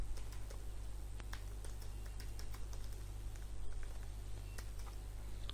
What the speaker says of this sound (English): after here I will type component reference